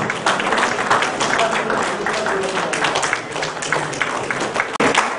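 Steady applause from an audience at a doctors' day celebration honouring two doctors, dense continuous clapping filling the room throughout.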